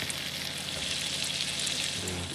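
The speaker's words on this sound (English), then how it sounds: "It'll be sizzling forever now. Will it sizzle over here? Interesting. It's a permanently sizzling pot." A pot sizzles over a fire in the video game Prologue: Go Wayward, a constant crackling fry heard close and steady with no voices.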